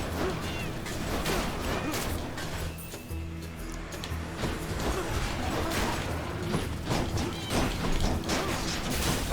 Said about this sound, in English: Here's the chariots that make this strange sound.